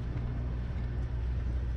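A car idles and rolls slowly at an off-road desert race in Parker, Arizona, a steady low engine rumble close by with no voices.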